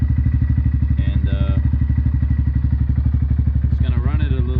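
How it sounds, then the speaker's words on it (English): A Honda Grom motorcycle engine idles steadily in neutral while its oil is being flushed, a close, even, rapid thumping that runs throughout, with a voice briefly speaking over it near the end. "just gonna run it a little bit just so it cleans out the engine"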